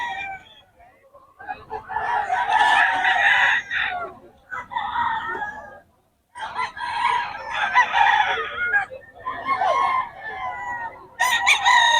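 A rooster crows loudly and repeatedly nearby, long drawn-out calls separated by short pauses, with faint clucking between them.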